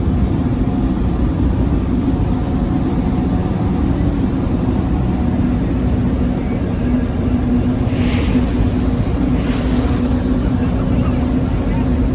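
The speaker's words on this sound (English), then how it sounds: "We're going to get into its wake here in a little bit. See the waves rolling in." Wake waves roll in from a passing ferry while aboard a boat at sea, under a loud, constant rush of engine and wind noise. A couple of brief splashes stand out near the end.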